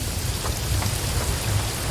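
Steady heavy rain effect from the video game Paradise Killer, a dense continuous hiss of downpour on surfaces with a low rumbling undertone, loud and unbroken with no voices.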